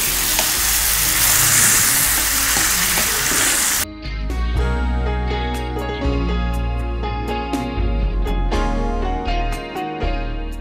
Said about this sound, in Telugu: ఒక కప్పు పెరుగు పోసుకోవాలి.